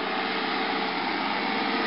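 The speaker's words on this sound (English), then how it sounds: "That's spraying pesticides to stop bugs eating all his plants." A small tractor engine hums steadily at close range while it sprays pesticide across fields below pretty mountains, a constant light buzzing drone with no pauses and no voices.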